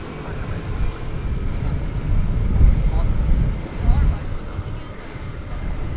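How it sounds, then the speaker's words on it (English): A three-engined jet airliner taxis across DFW Airport at night, a steady, moderately loud engine rumble with wind buffeting on the microphone, swelling slightly as it rolls past. "we'll watch this three-engined airplane taxi on over."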